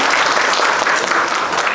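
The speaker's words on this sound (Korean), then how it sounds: "하나님께 영광의 박수를 올려드리겠습니다" Steady, loud applause from a church congregation, dense and continuous clapping filling the room without pause, no voices standing out.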